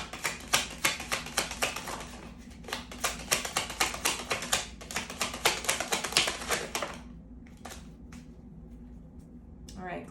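Tarot cards are shuffled and riffled in quick, crisp bursts of papery slaps for several seconds, close and fairly quiet, tapering to a few scattered flicks.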